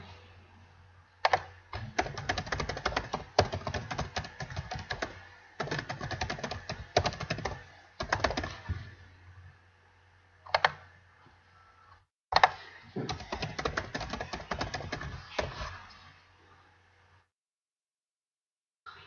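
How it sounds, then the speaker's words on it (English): Typing on a computer keyboard, rapid bursts of close key clicks separated by short pauses, in a quiet room with no talking. "Let's just type some words in here."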